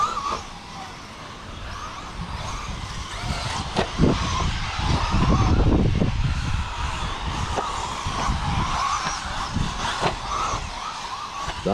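Tekno ET410.2 mini-truggies racing in a radio-controlled qualifier: a steady, high electric motor whine with rising and falling buzz as the small trucks accelerate and pass, mid-distance and continuous.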